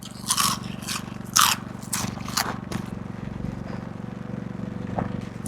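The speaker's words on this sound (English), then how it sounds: "I don't know if you can hear this crunch on the microphone while it's up near my mouth." Crispy battered fried carp is bitten and chewed close to the mouth at a riverside campsite, giving several loud crunchy scraping bites and then steadier chewing crackle over a low background hum.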